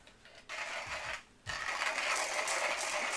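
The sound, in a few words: hand coffee grinder grinding beans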